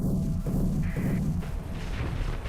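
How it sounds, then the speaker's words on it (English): Missiles and beam cannons firing in the Starsector space combat game, a run of deep muffled booms and thuds over a rumbling bed, with a short high whine partway through. "We can just overwhelm it with missiles."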